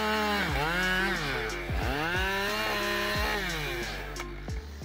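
A chainsaw cutting big wood revs up and down several times, its engine whine swooping in pitch with each throttle burst, loud and close with no voices.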